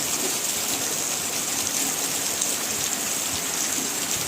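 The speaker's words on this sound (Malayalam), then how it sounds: "മഴയുണ്ട്" Heavy rain pours down in a dense, continuous hiss, loud and unbroken for the whole stretch, with no voices.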